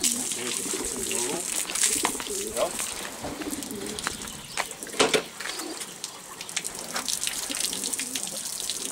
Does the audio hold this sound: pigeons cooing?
yes